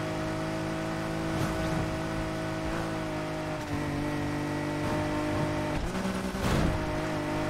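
Racing game car engine in Need for Speed with a steady droning motor, and a couple of other cars sweep past up close with brief rising whooshes, the loudest pass near the end.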